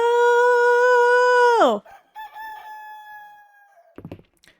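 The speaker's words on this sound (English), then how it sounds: "Cock-a-doodle-doo." A rooster in the farming video game Fields of Mistria lets out one loud, drawn-out crow that cuts off sharply, followed by quieter, scattered game sounds and a brief soft clatter near the end.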